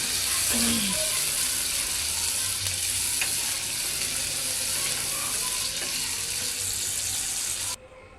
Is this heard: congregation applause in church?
no